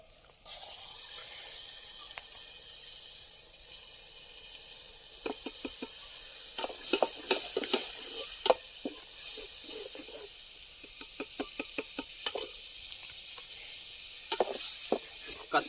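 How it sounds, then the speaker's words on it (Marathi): Onion and tomato puree sizzles in a pan over an outdoor fire in the forest while a prawn biryani is cooked. A steady hiss runs throughout, broken by clusters of sharp crackles and pops that grow busier midway. "कांदा टोमॅटो तो भाजूया तो पण प्युरी भाजू दे चांगली"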